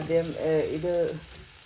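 Rava roasting in a pan for upma, a soft steady sizzle with a few gentle stirring pulses, close and quiet, with no talking.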